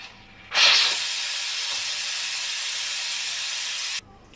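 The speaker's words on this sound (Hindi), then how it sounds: "स्टीम निकल चुकी है।" Steam from a pressure cooker of mutton pulao bursts out as soon as the weight comes off, a sudden loud hiss that holds steady for about three and a half seconds, then cuts off abruptly.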